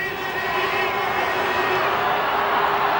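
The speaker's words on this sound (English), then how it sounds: "the crowd is bursting at the seams here at the ground" A packed stadium crowd at a 2005 Bristol v Bath rugby match, a steady loud roar of many voices that holds without pause, with cheering mixed into the din.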